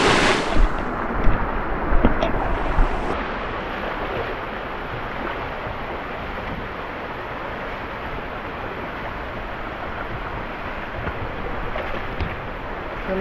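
A stream being waded across on foot on a village hill path, heard as a steady, close rush of flowing water with a few sharper splashes at the start and no talking.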